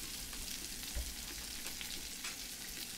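Red peppers frying in a pan, a steady broadband sizzle that stays even throughout with a faint thump near the middle and no talking.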